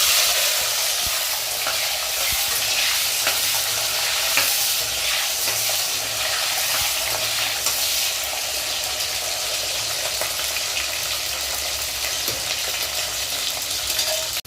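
Small onions fry in hot oil with a steady crackling sizzle, stirred now and then, close and continuous with no talking.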